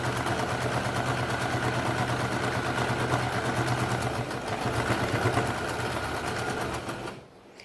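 A sewing machine stitching a cloth market bag hums in a loud, continuous close-up drone that winds down and stops just before the end.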